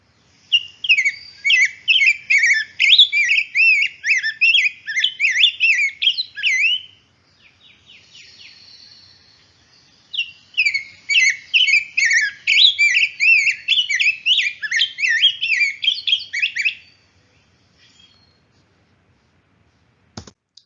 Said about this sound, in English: It's this kind of like rich, sort of rambling warble that sounds almost like an American robin that's taken voice lessons